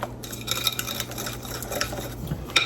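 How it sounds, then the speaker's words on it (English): Pumpkin bread batter being stirred in a mixing bowl, with soft scraping and occasional light clinks of the utensil against the bowl, close and steady for a few seconds with no talking. "Give this a little stir to incorporate it."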